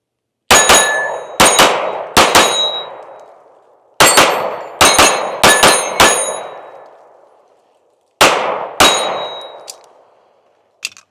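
A Smith & Wesson M&P 2.0 Compact metal-frame pistol fires sharp, loud shots in quick clusters of three, then four, then two. Each crack rings out with a metallic tail, followed by a faint click at the end.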